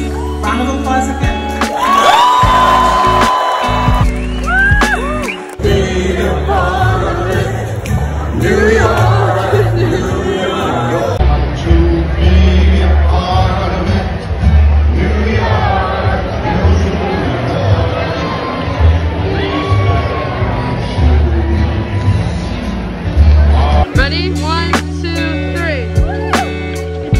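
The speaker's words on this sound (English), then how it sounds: "Round of applause again." A large crowd at a Columbia University graduation ceremony cheers and whoops, a loud, continuous hubbub of shouts and voices rising in waves and lasting throughout.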